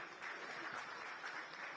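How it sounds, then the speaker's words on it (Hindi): Faint, steady applause from an audience at a public event, heard as a soft continuous patter of many hands, distant and uniform throughout. "पहले तो कंगना के लिए बहुत जोरदार तालियां बजाओ, इतना अच्छा बोला उन्होंने।"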